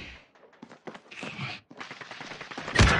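Gunfire in Call of Duty Warzone: scattered quick game shots through the clip, ending in a loud close burst of fire.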